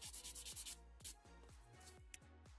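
A hand file rasps over a gel nail at close range in quick rhythmic back-and-forth strokes, about seven in a fast burst and then slower single strokes, soft and dry with no voices.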